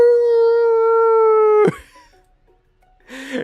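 A dog sings out one long, loud, steady howl in a video game, DJ Dog Sprinkles in a cozy kitchen setting, which breaks off abruptly; after a pause a shorter, noisier yelp-like howl follows.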